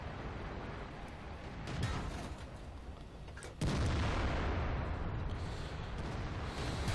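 An FV304 self-propelled artillery gun in World of Tanks fires with a sudden heavy boom partway through, followed by a sustained rumbling roar that persists after the blast, with no speech heard.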